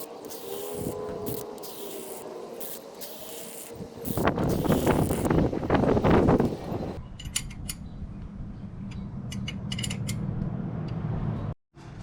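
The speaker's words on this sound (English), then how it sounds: "So we're going to be opening up the bleeder screw. I'm going to be pumping some fresh fluid." A brake flusher pumps fresh brake fluid through an opened caliper bleeder screw, giving steady mechanical creaking and hissing that swells loudly in the middle, then thins to sparse clicks and squeaks over a low hum, with no talking.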